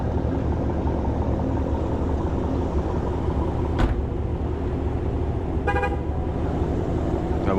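A loud Chevrolet Camaro muscle car with a Catalyst setup drives through city streets at midnight, its engine a steady heavy roar throughout, broken by a short horn toot near the middle and a longer honk toward the end.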